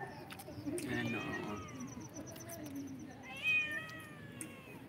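Cats meow at an outdoor picnic at Camp John Hay, two drawn-out rising and falling meows a couple of seconds apart, fairly close, with a person talking softly in the background.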